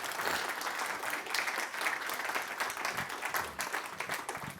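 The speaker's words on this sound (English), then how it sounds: "Please give a round of applause." An audience applauds after a talk about old books, dense steady clapping holding at an even level for several seconds with no voices over it.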